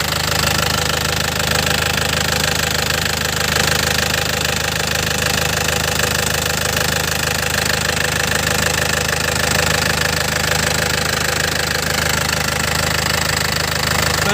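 A 2010 Isuzu Panther Grand Touring engine idling up close, a loud, steady diesel clatter with a constant knocking rhythm and no breaks or speech.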